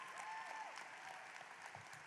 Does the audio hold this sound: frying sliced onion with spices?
no